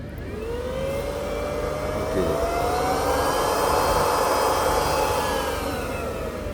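A waste oil burner driven by a twin turbo blower fan roars steadily, a loud continuous rushing whoosh with a whining tone that slowly rises in pitch, heard alone and close.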